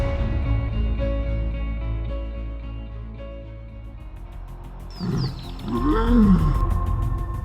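A grieving lioness lets out loud roars from about five seconds in, several rising and falling calls close by, following a steady low rumbling background with no talk.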